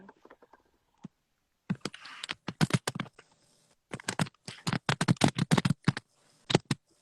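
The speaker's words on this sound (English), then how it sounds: "Listen to us typing like we're on." Rapid bursts of computer-keyboard typing come from a live talk show, with clusters of close, crisp key clicks separated by short pauses and no talking over them.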